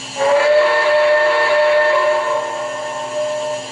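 A low-toned steam whistle from an MTH RailKing Cab Forward model train blows in one sustained blast with an airy hiss, tapering slightly before a brief swell near the end.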